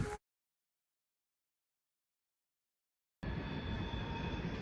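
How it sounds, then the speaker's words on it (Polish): A train passing on the tracks some distance away: after about three seconds of silence, a steady broadband rumble of rolling wheels comes in and holds at an even level to the end. "W oddali słyszymy pociąg, tak, bo to dokładnie po drugiej stronie torów."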